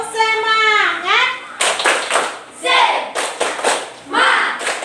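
Schoolchildren in a classroom do a rhythmic spirit clap, sharp clapping bursts in a patterned beat mixed with their chanting voices, after a sung, rising vocal phrase at the start.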